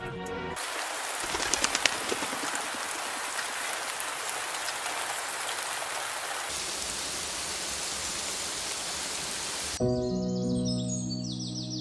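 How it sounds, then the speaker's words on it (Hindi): Heavy rain pours steadily, a dense broadband hiss with patter, cut off near the end by a sudden different sound. "बारिश का मौसम था, जोरों से बारिश हो रही थी।"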